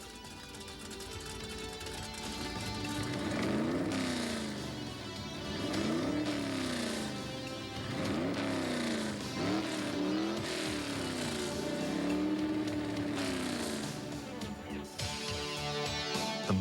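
A Chevy muscle car engine from a Bristol dealership revs repeatedly in a commercial, rising and falling in a series of throaty sweeps over music, fairly loud and close, with no talk.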